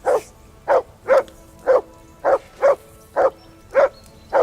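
A dog in Kingdom Come: Deliverance II barks repeatedly in a steady rhythm, about nine loud, close barks evenly spaced with no talk over them.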